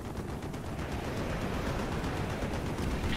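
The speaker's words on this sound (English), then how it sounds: "Taking AAA fire from the deck!" Anti-aircraft fire in Call of Duty: Black Ops, a dense, steady rumble of distant flak and rapid shots filling the whole stretch without a break, no voices.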